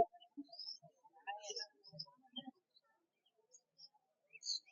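Assorted caged birds at a bustling bird market in Mirpur 1 give scattered faint chirps and tweets, sparse and distant, with brief murmurs of people nearby.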